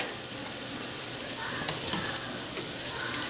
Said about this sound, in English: Bring it all out with this sauteing, and you want to do this, just stir all this around for a minute or two.